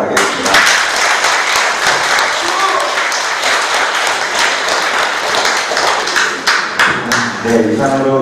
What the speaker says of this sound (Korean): 큰 박수를 보내주시기 바라겠습니다